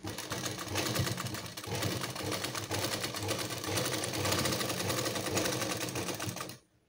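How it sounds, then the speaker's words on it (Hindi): A sewing machine stitches elastic into a trouser waistband, a fast steady mechanical whirr with rapid needle clatter that runs close and continuous, easing briefly once before stopping abruptly at the end. "इसी तरीके से इस पर सभी पूरे राउंड में हम ऐसे ही खींच के सिलाई लगा लेंगे"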